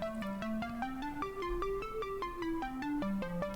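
A synthesizer 'sparkles' layer from a polymeter pattern plays quick, bright, bell-like notes that step upward and then back down, soft and clear with nothing else playing.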